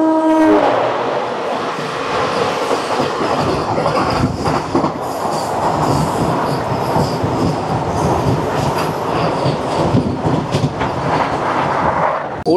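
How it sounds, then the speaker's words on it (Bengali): A saffron Vande Bharat Express, train 20977 from Ajmer Junction to Chandigarh, pulls into a station with a loud, continuous rumble of wheels and carriages and rhythmic rail clatter throughout. "আসছে ট্রেন নাম্বার 20977, আজমের জংশন থেকে চণ্ডীগড়,"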